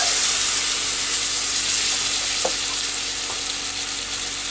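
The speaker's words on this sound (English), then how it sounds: "Now I'm going to get ready to add my heavy cream, and I'm using about half a container here. Make sure it's all stirred up." Heavy cream poured into a hot pan for chicken primavera, sizzling and bubbling continuously with a couple of faint scrapes of stirring, no voices.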